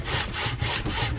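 A rag rubbing wood stain into a small dollar-store wooden craft piece: quick rhythmic back-and-forth scrubbing strokes, close and fairly loud, about four passes in a second.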